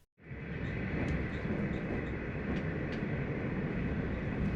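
V/Line passenger train rolling along the Deer Park West to Werribee line after the Deer Park level crossing, a steady broadband rumble and rail roar sustained throughout with faint clicks of wheels over joints.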